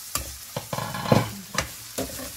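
Onions sautéing in a pan for Sri Lankan seeni sambal, close crackling sizzle broken by several distinct scraping stirs of a spoon across the pan, no voices.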